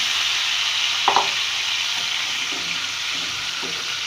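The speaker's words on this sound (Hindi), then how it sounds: "तो अब इसमें हम ये चिकन डाल देंगे" Boneless chicken frying in a pan for chicken jalfrezi: a loud, steady hiss of sizzling oil, with a few brief stirring scrapes, close by and without speech.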